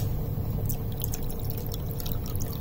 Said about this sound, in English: we need to add some more water